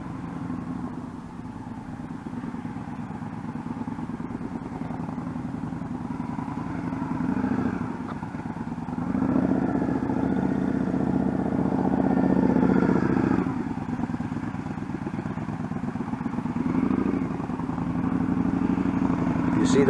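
A learner rides a motorcycle slowly, its engine idling and puttering at low revs with gentle swells in loudness, and people talk over it throughout.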